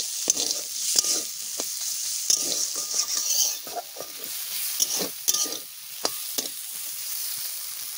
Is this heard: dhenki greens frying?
yes